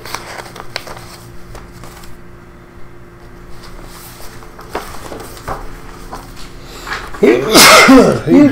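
A man sneezes once, loud and close, at the end of a quiet county commissioners' meeting room, after a stretch of low murmuring and shuffling.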